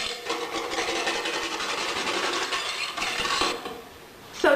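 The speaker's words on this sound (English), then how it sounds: "we'll come and we'll just whisk all of that together" A whisk scraping briskly against a bowl of heavy cream for macaroni and cheese, a fast, steady rasping rhythm that runs for several seconds, pauses briefly, then resumes with a short clatter.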